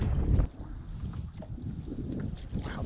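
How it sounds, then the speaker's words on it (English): Strong wind buffets the microphone out on a lake while fishing from a boat, a loud rumbling gust at first that settles into steady blustery roar and faint water noise, with no talking. "this wind is just ridiculous"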